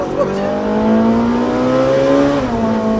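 A Ferrari 458 accelerates loudly on a race track, its engine note rising steadily through the revs, heard from close inside the car, with a voice speaking over it.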